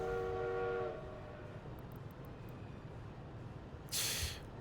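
Trains in the video game Workers and Resources: a sustained horn-like tone for about a second gives way to a steady rolling rumble, then a short hissing burst near the end, with no talking.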